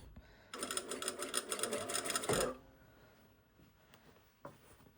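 A sewing machine stitches an all-in-one facing onto a bodice in a quick, loud, steady burst of about two seconds, then stops, leaving quiet room noise and a single small knock.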